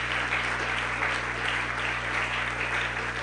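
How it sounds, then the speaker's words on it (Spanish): A church congregation applauds during a Spanish-language worship service, steady dense clapping filling the room from start to finish without a break. "Un aplauso para él."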